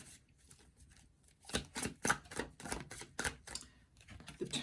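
Tarot cards drawn from a deck and laid out one by one for a reading: a quiet run of crisp papery slaps and flicks, close and soft, in an irregular rhythm.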